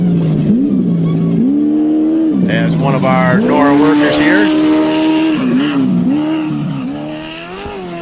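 A race car climbs a mountain road during the 2023 Yokohama NORRA 500 off-road rally, its engine revving up and down in loud repeated surges before fading slightly, with a person talking over it.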